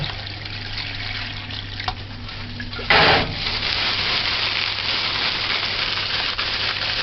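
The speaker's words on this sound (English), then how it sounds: "So add water." Water poured over callaloo leaves in a kitchen to wash them, a sudden splashing gush followed by a steady running trickle, close and alone without talk.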